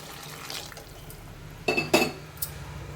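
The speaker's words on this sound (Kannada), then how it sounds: "ಈಗ ಅದನ್ನು ಹಾಕ್ಕೊತಾ ಇದ್ದೀನಿ. 4 ಲೋಟ." Water poured from a glass into a pot for veg pulao, four glassfuls in all: two short splashing pours stand out over a low kitchen background, with a faint third splash after them.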